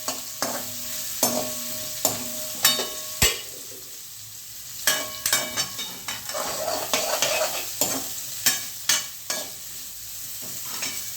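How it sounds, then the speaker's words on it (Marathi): Sweet potatoes fry in a pan with a soft, steady sizzle, broken by repeated sharp scrapes and clinks of a spoon stirring against the metal, close and clear, with no talking. "याला एकदम असं छान रीतीने आपण फ्राय होऊ देऊयात."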